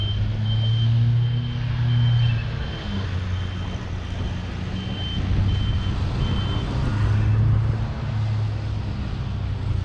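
A council grass-cutting sweeper vehicle reverses with a low engine drone and a repeating series of high reversing beeps, steady and fairly loud, with no talking.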